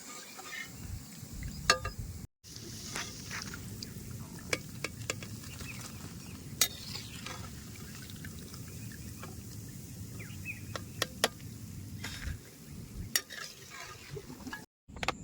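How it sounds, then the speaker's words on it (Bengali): Jhuri bhaja, a crunchy gram-flour snack made in village style, fries in hot oil with a continuous low bubbling sizzle. Sharp scraping clicks of a utensil lifting pieces out run through it, with a couple of brief gaps. "এখন আমি সব কটা জুড়ি ভাজা সুন্দর করে বাইজা উঠাবো"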